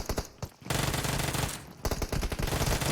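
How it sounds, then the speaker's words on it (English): Gunshots from PUBG Mobile in a competitive esports match come as loud bursts of rapid automatic fire, a few single cracks first and then sustained volleys with a short gap between them. "Some shots are ringing forth."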